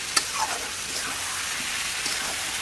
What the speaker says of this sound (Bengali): এবার ভালো করে মশলার সাথে মিশিয়ে দেবো।